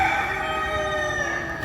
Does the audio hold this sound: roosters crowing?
yes